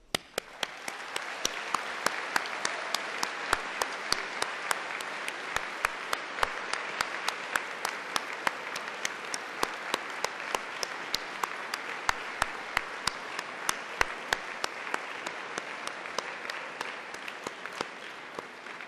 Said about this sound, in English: giving all of them a big cheer and round of applause